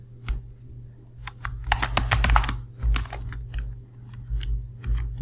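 A file path being typed on a computer keyboard during a CentOS 8 install in VMware Workstation, with close, rapid clicky keystrokes in uneven bursts over a low steady hum.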